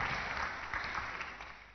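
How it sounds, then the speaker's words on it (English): Continuous applause from a church congregation of clergy at a conference welcome service, many hands clapping steadily at moderate loudness with no voices over it. "Don't hold your clapping."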